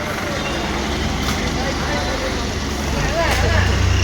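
A travel company's pilgrimage tour bus sets off in Assam toward the Shakti Peeth shrines. Its engine gives a steady low rumble amid roadside traffic, with people talking over it.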